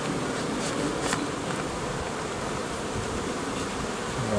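Honey bees at an opened hive buzz in a dense, steady drone up close, a continuous swarm hum with no talking.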